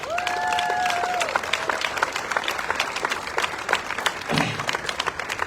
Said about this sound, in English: So give them a big round of applause and tell them thank you.